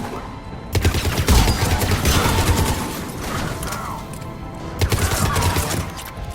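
Heavy booming blasts of cannon fire in Mass Effect 3 on Omega, a dense loud barrage with repeated impacts and rumbling, no talking.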